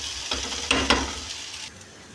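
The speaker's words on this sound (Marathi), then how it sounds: "आपली भेंडी बघू शकता फ्राय होत आहे" Okra (bhindi) fries in an open pan while being stirred, a steady sizzle broken by a few sharp scraping stirs and clinks, then quieter bubbling.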